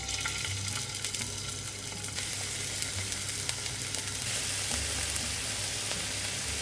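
Steady, loud sizzling of beef frying in a hot pan, a continuous crackle with occasional spits and pops throughout.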